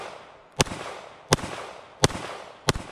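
Four sharp Walther PDP pistol shots ring out at a steady, evenly spaced pace, each crisp and loud against a quiet background.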